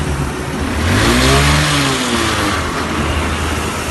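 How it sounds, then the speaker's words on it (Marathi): A small car's engine is revved once, its pitch climbing then falling back to a steady idle, close and fairly loud with no talk over it. "जरा रेस करा."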